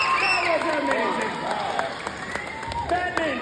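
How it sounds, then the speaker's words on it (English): Audience applause after a stage show with a juggling performer: clapping and cheering from a crowd, mixed with excited voices and a presenter talking loudly over it. "Give yourself the big round of applause!"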